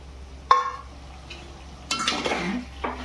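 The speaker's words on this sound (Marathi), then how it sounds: "व्यवस्थित मिक्स करून घेऊ." A spoon or spatula in a pan as a ground paste of dried coconut, garlic, ginger and coriander is mixed into bitter gourd: a sharp metallic clink, then scraping, stirring strokes close by.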